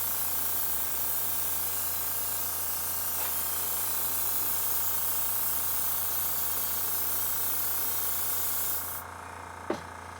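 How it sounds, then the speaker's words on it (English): A small airbrush sprays paint onto a Heng's model kit in a long, steady hiss that cuts off sharply near the end, followed by a brief click. "This is a decent, nice little airbrush for this kind of stuff"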